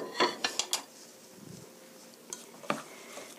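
A spatula clinks and scrapes against a bowl while mashed potato salad is mixed, with a few sharp knocks at the start and another tap later over soft background noise.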